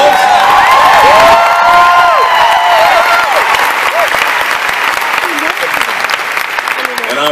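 A concert crowd at a Mother's Day show in Mankato, Minnesota claps loudly and continuously, with scattered cheers and whoops over the applause and a voice talking early on.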